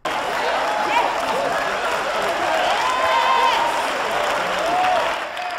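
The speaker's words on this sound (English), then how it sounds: "Long's words brought whistles and cheers as well as clapping" Sustained crowd applause and cheering at a church ministry gathering, dense and loud throughout, with whistles and shouted voices mixed into the steady clapping before it tapers slightly at the end.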